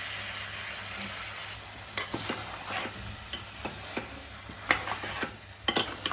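Coconut paste sizzles in a pan of mutton paya curry while it is stirred, a steady hiss broken by repeated sharp scrapes and clacks of the spoon against the pan, growing busier toward the end.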